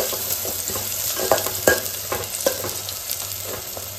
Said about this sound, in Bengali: গ্যাসটা মিডিয়াম করে পেঁয়াজগুলো ভেজে নেব।